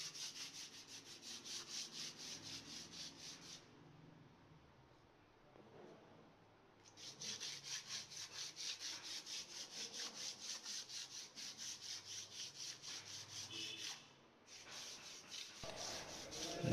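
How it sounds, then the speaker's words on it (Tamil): A cement pillar is sanded smooth by hand before a wood-grain finish, with steady, rhythmic scraping strokes. The rubbing is close and fairly quiet, and it pauses briefly twice. "பிசுறு எதுவும் இல்லாமல் தேய்க்கிறதுக்காக தான் இப்போ நம்ம தேய்க்கிறோம்."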